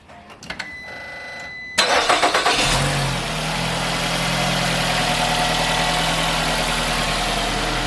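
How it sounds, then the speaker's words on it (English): A Nissan X-Trail engine cranks briefly, catches and settles into a steady, close idle that hums on without any voices. "Okay, we're going to start the car."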